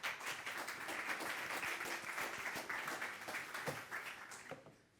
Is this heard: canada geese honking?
no